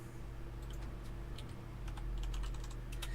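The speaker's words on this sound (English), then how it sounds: "Oh, she's typing now." Fingers type on a computer keyboard in quick, irregular bursts of sharp key clicks over a constant low hum, with no talking.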